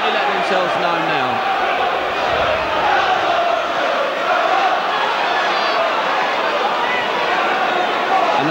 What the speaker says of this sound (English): we can really hear the Tottenham crowd now